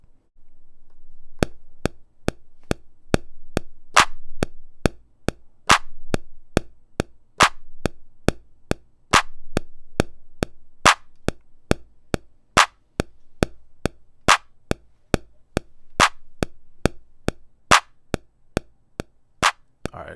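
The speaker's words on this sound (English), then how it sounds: "Actually, I'm gonna start with the clap." Sharp, dry clap sample from an MPC Live 2 drum machine, repeating in a steady looped pattern of evenly spaced hits, loud and isolated with no other sounds.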